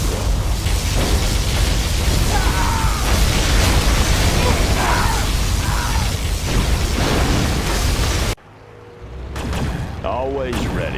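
Heavy, sustained roaring blast from a particle cannon in Command & Conquer: Generals Zero Hour fills most of the clip, then cuts off abruptly to quieter electronic tones and effects.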